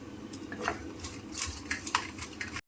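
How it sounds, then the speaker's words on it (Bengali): Rohu fish pieces being mixed with salt and turmeric in a metal bowl, with close, quiet, irregular scraping, clinking and squelching strokes. "আচ্ছা, লবণ হলুদ মাখিয়ে নিচ্ছি।"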